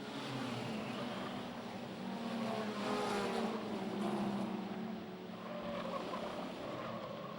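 Modified production race cars, including a big Ford Falcon, roar around Kingaroy Speedway in a steady, loud blend of engines that swells and fades slightly as the pack passes, with no talk.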